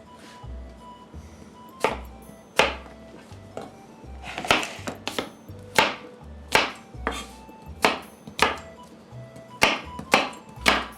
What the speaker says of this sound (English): Get a nice dice going here.